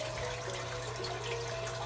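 Water pouring from a garden hose into drilled holes around a large plant's root system, a steady close trickle with an even, continuous flow and no talking.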